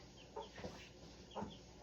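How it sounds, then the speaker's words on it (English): Rooster clucking: two short, soft bursts of low clucks about a second apart, close by in a quiet room. "here's my rooster"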